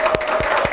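Audience applause at a lecture hall talk, a few loud separate claps rising over a murmuring room, brief and close.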